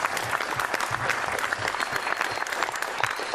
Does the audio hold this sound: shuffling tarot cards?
no